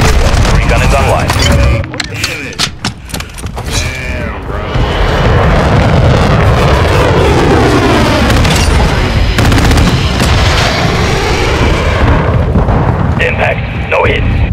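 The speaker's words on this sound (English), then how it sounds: "Mortar strike on the way." Mortar strike explosions in the video game Modern Warfare 2 boom heavily in repeated deep blasts with rumbling debris, loud and close, while voices talk over the barrage.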